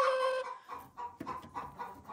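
A farm hen clucks near the microphone in a straw-bedded pen, with a drawn-out call followed by a series of short, soft clucks in an uneven rhythm and no talk.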